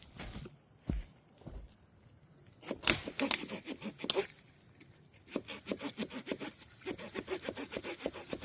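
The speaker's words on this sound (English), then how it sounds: "I think I need a new saw." Hand saw cutting through wood during trail maintenance outdoors, a series of close, rhythmic rasping strokes in bursts separated by short pauses, with faint rustling between strokes.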